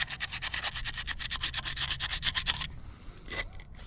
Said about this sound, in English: Now we're going to take some sandpaper and clean up these rough edges.